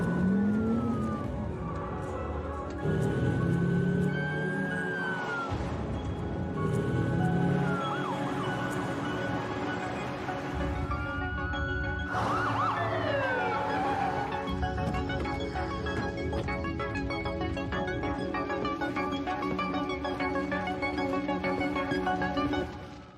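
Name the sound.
ambulance siren in a video game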